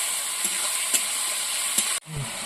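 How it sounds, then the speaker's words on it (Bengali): Fish frying in a pan for a Bengali curry, stirred with a utensil: a steady loud sizzle with a few light scrapes, then the frying hiss cuts off abruptly near the end. "একটু নাড়াচাড়া করে নেবো"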